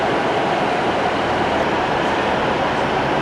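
A British Rail Class 153 diesel unit running for Northern gives a constant, loud rumbling roar that stays at one level throughout, with no voices.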